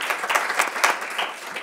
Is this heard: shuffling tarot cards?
no